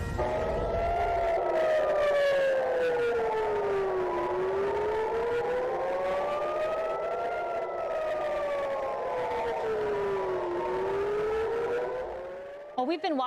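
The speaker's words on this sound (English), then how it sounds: "sirens sounding over Tel Aviv as a barrage of missiles hit the nation" Air raid sirens wail over Tel Aviv during a missile barrage, a loud rising and falling tone sweeping slowly up and down for the whole stretch before cutting off abruptly.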